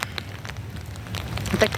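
Light rain patters steadily in a park, a soft broadband hiss with scattered drop ticks, with faint voice-like murmurs underneath.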